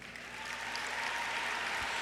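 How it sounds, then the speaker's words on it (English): Audience applause at a Columbia High School graduation ceremony, a dense wash of clapping that swells slightly and then holds steady and continuous throughout, with no voices over it. "please give a round of applause and thanks to those people past and present"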